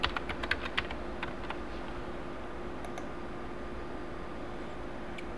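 Fingers typing a password on a computer keyboard, a quick burst of clicky keystrokes at the start that thins to a few isolated taps over a quiet background hum.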